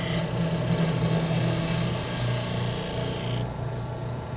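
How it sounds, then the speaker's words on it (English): A spindle gouge cuts a domed lid on the top of a wooden toothpick holder spinning on a lathe, giving a steady, continuous scraping hiss over the motor's low hum that drops away sharply near the end. "Now I'll use a spindle gouge to shape the top of the toothpick holder."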